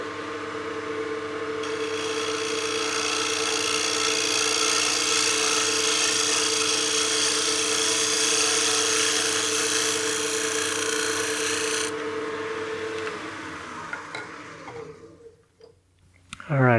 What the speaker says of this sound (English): I'm just going to do a light finishing pass to try and cut through that torn grain